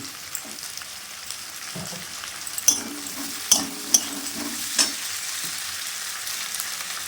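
Ginger and garlic paste frying with potatoes in a pan for a cabbage and prawn dish, giving a steady soft sizzle broken by a few sharp clinks and scrapes as the mixture is stirred, with no talk.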